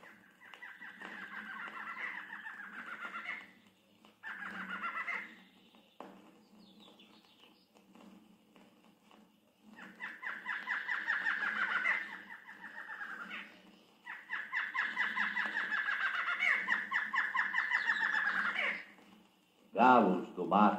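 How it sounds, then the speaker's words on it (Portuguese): Grey antwren (papa-formigas cinzento) calling in a bird recording, bursts of rapid chattering notes repeated in several phrases with short gaps, fairly close and clear. "Papa-formigas cinzento."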